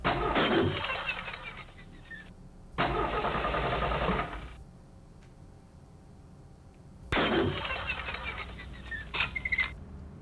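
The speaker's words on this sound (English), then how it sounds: "I bring you the gasoline-powered piano. Just build a handy 16-gallon tank with lead-free octane, crank her up," A gasoline-powered piano's engine cranks and fires in three loud, rough bursts lasting a second or two each, separated by quieter gaps, with a faint low hum between them.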